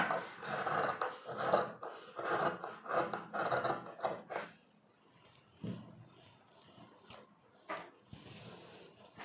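Scissors cut blouse fabric in a run of rhythmic rasping snips at close range, quick strokes that then thin out into sparse, quieter rustles and clicks.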